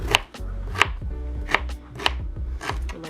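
Ginger being sliced on a cutting board for a blender drink, with about six crisp knife chops in an even rhythm, close and clear, and nobody talking.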